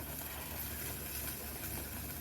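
A kitchen mixer grinder blends fresh spinach leaves into a paste, giving a steady, fairly faint motor whir with a constant low hum that runs unbroken.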